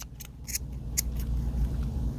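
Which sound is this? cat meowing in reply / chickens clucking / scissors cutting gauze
scissors cutting gauze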